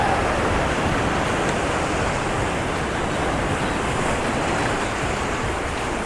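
Rough sea surf with many rolling breakers crashes onto the shore, a steady close roar of churning water that continues alone.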